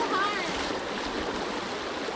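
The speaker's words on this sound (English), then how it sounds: "Current. White water." White water rapids near Girard waterfall rush in a dense, continuous hiss of churning current, close and steady, with a brief faint voice at the start.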